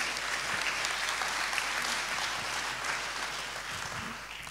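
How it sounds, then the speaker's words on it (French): Audience applause at an evening philosophy talk welcoming guests onstage, a steady, full wash of many hands clapping that holds evenly and fades slightly toward the end, with faint voices underneath. "Merci de les applaudir."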